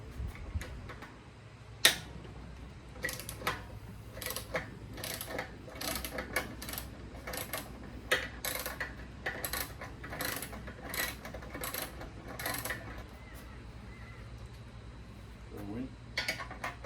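Rapid ratcheting clicks from a socket wrench loosening a long 8mm bolt inside the fuel tank of a Go Power Sports Rascal mini bike, coming in repeated bursts with short pauses, close up and moderately loud.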